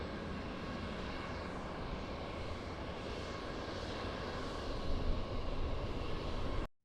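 Air Canada airliner landing at Lisbon Airport, a steady broad roar of jet engines from a distance that swells slightly near the end before cutting off.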